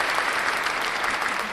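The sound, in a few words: applause sound effect on a livestream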